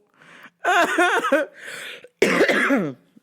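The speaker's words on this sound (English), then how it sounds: "There's the cough" Three rough, voiced coughing bursts sound close up, separated by brief pauses.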